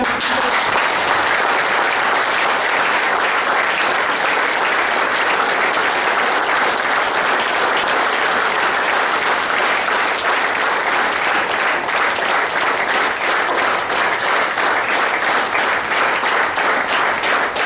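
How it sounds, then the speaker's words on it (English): A large audience claps loudly and continuously for a long stretch, sustained dense applause at an even level with no pauses and no talking over it. "Keep clapping"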